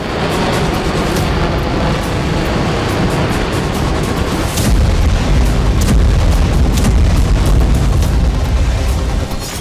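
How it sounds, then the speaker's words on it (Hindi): Dense, rumbling blasts over continuous low roar from a kamikaze drone explosion at the front line in Ukraine, with a heavier boom around the middle followed by sustained deep rumbling; loud and close, no voices. "कभी कामिकाज़े ड्रोन से हो रहा धमाका।"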